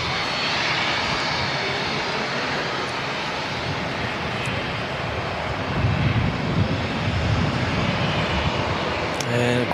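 A Qantas airliner departs Auckland Airport for Sydney, its engines a steady broadband roar that swells louder toward the end, with wind buffeting the microphone.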